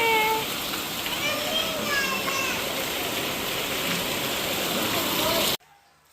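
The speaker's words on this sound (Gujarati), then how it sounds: "જો મસ્ત મસ્ત બારિશ આવે હે." Heavy rain pours down steadily as a broad, even hiss that fills the scene, with children's voices and chatter over it before it cuts off abruptly near the end.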